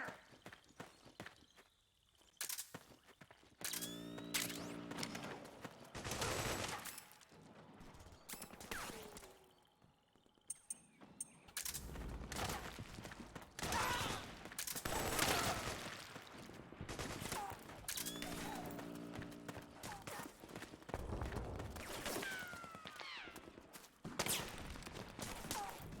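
Gunfire crackles through a Metal Gear Solid 4 battle as bursts and scattered shots mixed with mechanical clanks, footsteps and combat clutter, loud and dense over most of the stretch.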